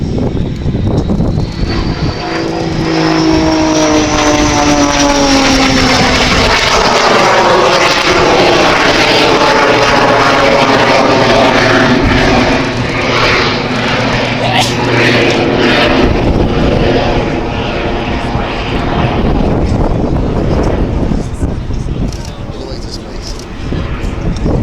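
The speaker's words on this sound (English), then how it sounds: "this is going to be a high-speed pass with a rolling vertical climb" A Jet Pitts aerobatic plane makes a high-speed pass at the Midlands Air Festival 2025, its loud roaring whine sweeping in, peaking and falling away as it climbs, with announcer commentary over the air show.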